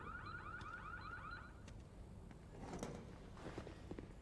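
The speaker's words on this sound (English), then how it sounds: "Kid, you triggered the alarm system" Car alarm in Need for Speed Unbound, set off inside a car repair shop: a rapid repeating electronic warble plays loudly for about a second and a half, then cuts off, leaving muffled clatter and background game noise.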